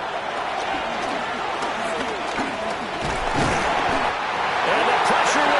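A football stadium crowd roars steadily, loud and dense throughout and swelling near the end, with indistinct background voices mixed into the cheering at a Cowboys–Cardinals game.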